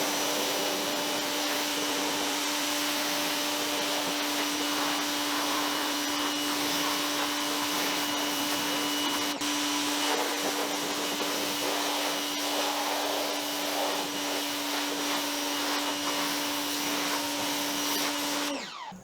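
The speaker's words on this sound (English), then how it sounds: "Now we're going to dry it off with our Ryobi." A Ryobi power tool blower drying off a freshly washed car gives a steady, high-pitched whining roar with a constant tone, running continuously at close range for nearly twenty seconds before cutting out at the end.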